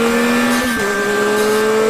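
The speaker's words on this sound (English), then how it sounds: "the unfiltered power of the bike can be heard straight from the soul of the new MT-09" A Yamaha MT-09 motorcycle engine holds a loud, steady high-rev drone with a brief dip in pitch partway through before sustaining again, heard close and continuous without any voices.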